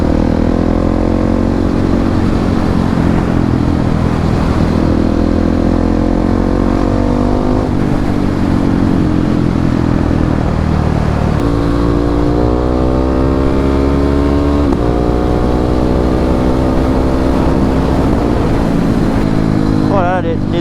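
A motorcycle ridden hard to warm its tyres, with a loud close engine whose pitch climbs and drops through repeated revving and gear changes. A voice speaks over it.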